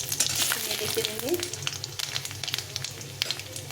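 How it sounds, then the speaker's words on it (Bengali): A tempering of dried red chili, bay leaf and panch phoron crackles and sizzles steadily in hot oil, with occasional stirring scrapes close up. "ফোড়নটাকে একটু ভাজা ভাজা করে নিতে হবে।"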